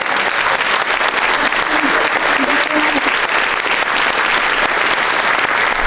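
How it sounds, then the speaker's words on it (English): Sustained, dense audience applause holds at an even, loud level from start to finish, with faint voices buried underneath. "how about a big round of applause for us?"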